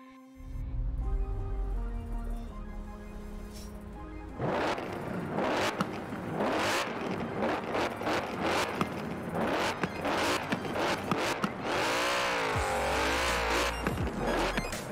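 A Mercedes-AMG GT 63 S accelerating hard in the racing game Forza Horizon 4, its engine roaring loudly with tire squeal after a short stretch of background music.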